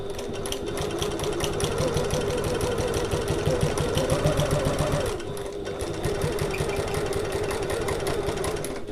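A sewing machine stitches close to the edge of fabric, its rapid, even needle chatter running steadily at close range, with a brief slowdown and pause near the middle before it picks up again.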